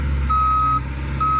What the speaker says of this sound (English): I'll wait until he's done backing up.